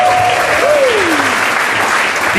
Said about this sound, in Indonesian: Smart Friend World, tepuk tangan.